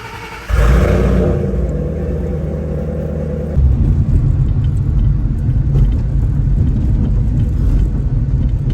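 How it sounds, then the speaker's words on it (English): Ford Mustang 5.0 V8 with boost on a cold start: a sharp starter catch bursts into a loud, rich idle that then settles into a deep steady rumble after a few seconds, with no talk. "Let's go ahead and get a good old-fashioned cold start."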